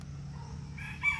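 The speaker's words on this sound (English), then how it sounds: "with the rooster in the background" A rooster crowing far off on an August morning, a faint drawn-out call rising at the end over a low steady hum.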